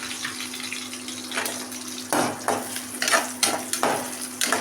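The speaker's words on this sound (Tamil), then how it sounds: "ஒரே ஒரு கைப்பிடி சின்ன வெங்காயம் போட்டுக்கலாங்க" Shallots and chillies fry in hot oil with a constant sizzle and hiss, broken by several louder stirring scrapes and bursts as the pan is worked, with a faint steady hum underneath.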